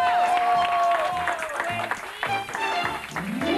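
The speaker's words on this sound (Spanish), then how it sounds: "¡Venga, el aplauso!" Audience applause and crowd noise on a Mexican television show, under loud music with a sustained tone and a driving beat, the clapping partly buried in the mix.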